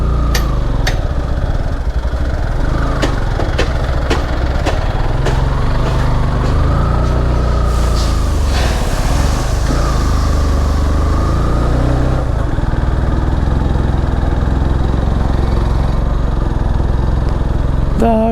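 A heavily loaded motorcycle labours uphill on the road to Darjeeling, its engine droning steadily loud and close for the whole stretch with wind and road noise mixed in and no clear talk.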